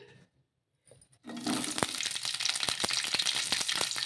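Green chillies drop into hot oil in a kadai after a brief quiet moment, bursting into a loud, close sizzle with scattered sharp pops and crackles that keep going.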